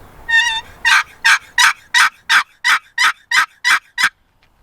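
A wooden box call, a paddle drawn across a box, plays a turkey yelp: a short raspy opening note, then a run of about ten loud, evenly spaced scratchy yelps, close and clear.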